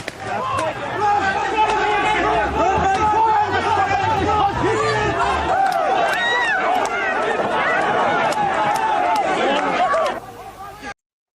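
A loud, agitated crowd at an IRA funeral in the Republic of Ireland surrounds police, with dense shouting, chatter and running movement throughout before the noise cuts off abruptly.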